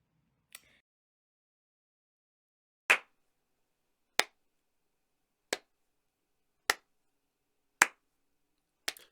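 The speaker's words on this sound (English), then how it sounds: "Slow clap for you." Sharp single claps spaced slowly and evenly, about one every second or so, crisp and close with silence between them.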